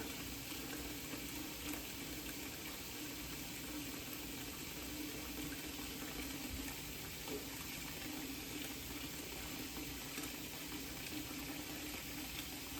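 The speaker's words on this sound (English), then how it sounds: "we're gonna let this bucket get about 3/4 of the way full" A bucket fills from a running tap for aquarium cleaning, making a continuous, even rush of pouring water that stays faint and steady throughout.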